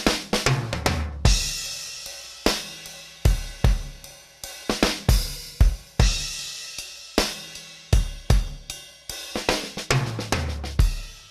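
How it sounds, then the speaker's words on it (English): A sampled acoustic drum kit from EastWest Fab Four plays a groove of punchy kick and snare hits with crashing, shimmering cymbals, dry, close and unprocessed. "there's a variety of cymbals and drums played in different styles"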